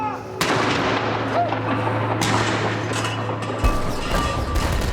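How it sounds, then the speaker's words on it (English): Tower of London cannon fire, a series of deep booming blasts with sharp onsets, each followed by a rolling rumble, loud and close. "the thunder of the Tower's cannon sounds all around her."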